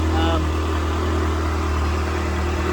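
A Ferrari engine runs at a steady, low idle with a constant drone after catalytic converter work, heard from close by with a speaking voice partly over it.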